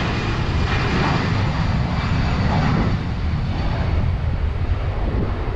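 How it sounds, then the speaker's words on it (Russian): Airplane taking off near a hotel in Sharm el-Sheikh, Egypt: a steady, loud jet engine roar fills the whole stretch with a broad rumble and hiss, carried on some wind noise, with no talking. "вот самолет заходит на посадку. А, нет, наоборот, взлетает."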